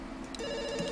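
A telephone rings in the video game Dr. Langeskov, a short electronic bell trill that sounds clear and close, with no talking.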